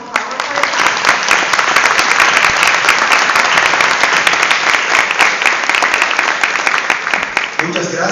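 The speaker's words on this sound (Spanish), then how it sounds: "Un aplauso para el gente, por favor." An audience at a conference on gender perspective in labor matters, held in a courthouse hall, bursts into sustained loud applause, dense clapping that holds steady for several seconds before tapering off at the end.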